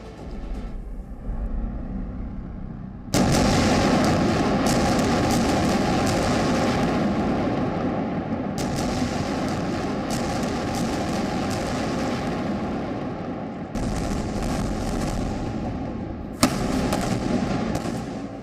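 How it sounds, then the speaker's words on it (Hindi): Israeli aircraft bombing Gaza: sustained loud roar of aircraft overhead with deep rumbling explosions and bursts, several sharp booms cutting in through the din, continuous and distant-to-near. "इजराइल के एयरक्राफ्ट गाजा पर आसमान से बम बरसा रहे हैं।"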